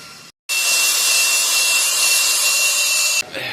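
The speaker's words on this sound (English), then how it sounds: "now he's gonna weld" Welding on a metal motocross ramp, a loud continuous harsh buzzing crackle starting abruptly after a short silence and cutting off about three seconds later, close by.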